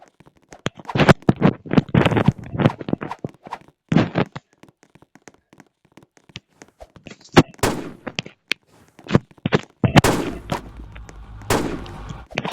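A first-person shooter video game fires bursts of gunshots, some single and some in rapid clusters. Quiet gaps fall between them, and a dense volley comes near the end.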